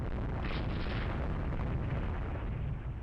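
A warship in the naval strategy game Rule the Waves 3 takes shell hits, heard as a loud, dense rumbling roar of explosions and gunfire that rolls on without a break and with no talk.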